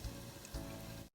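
Onions and garlic sautéing in a pan give a steady, close sizzle of frying that runs without a break for about a second before cutting out abruptly.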